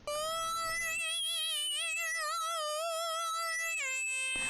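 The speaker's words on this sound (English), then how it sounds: "And then layered with it, I have that JDXI sync lead," A Roland JD-Xi synthesizer sync lead plays sustained, bright harmonic-rich notes with wavering vibrato-like pitch sweeps, a loud solo line that steps down near the end, with no talking.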